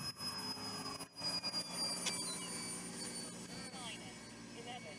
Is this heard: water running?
no